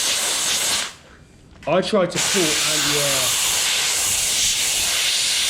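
A steam cleaner hisses loudly and close up as it lifts glue off an Alfa Romeo 164 Cloverleaf during restoration. The hiss is continuous apart from a brief pause, when someone speaks, and then returns at full strength.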